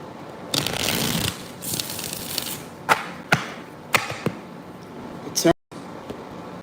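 Tarot cards riffle in a long shuffle, followed by several sharp taps and snaps as the deck is squared and cut, close and crisp.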